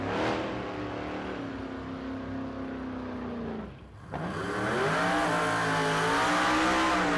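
A 1976 Corvette Stingray race car at a Las Vegas drag strip holds a loud, steady engine note, drops off briefly, then roars back as it revs hard and accelerates up close.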